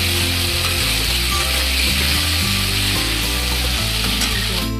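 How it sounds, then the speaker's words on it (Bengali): Potatoes, already boiled with salt, being sautéed with spice paste in a pan for an egg and masoor dal curry, giving a steady, dense frying sizzle with a low stirring rumble throughout, no voices. "আলু আর মশলা একসঙ্গে ভালো করে কষিয়ে নেব।"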